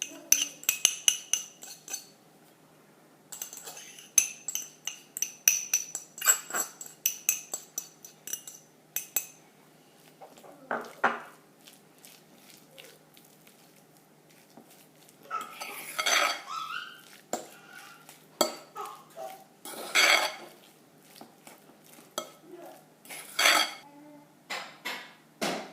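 Utensil scraping and clinking against a bowl while potato stuffing with chicken and chives is mixed, an uneven run of close stirring clatter with pauses between bursts.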